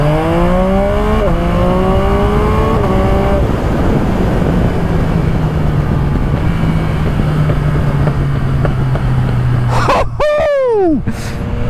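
Yamaha MT09 SP motorcycle with a full Spark exhaust system accelerates hard, its loud engine climbing through gears with quick shifter changes and a sustained roar, then a sharp crackle and revs as the throttle closes near the end.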